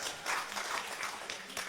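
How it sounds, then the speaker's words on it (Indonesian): Group applause from a school reunion audience with a preacher, a steady patter of many hands clapping at moderate level with no talk over it. "Tepuk tangan untuk kita semua."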